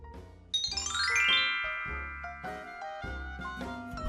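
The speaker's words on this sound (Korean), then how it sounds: "누가 초인종을 올렸는데?" A doorbell chimes a bright, multi-note tune of ringing tones that sounds clearly in a quiet room with no voices.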